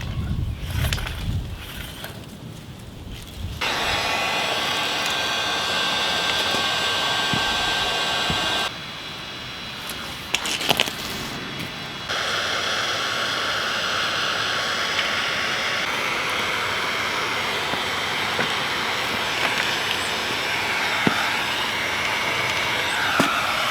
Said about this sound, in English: we're going to use this heat gun to make the Schedule 40 material a little bit softer